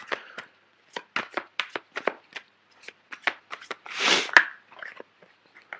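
Tarot cards shuffled and drawn from the deck, a quick run of crisp slaps and flicks with short gaps, then a longer rustling riffle and a few soft card snaps, close and alone.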